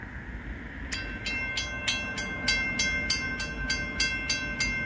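Union Pacific 8444 pulling an outbound manifest freight past the Elliot Road crossing: a sustained horn tone over a rising run of regular, rhythmic wheel clacks as the cars roll steadily by, close and growing louder.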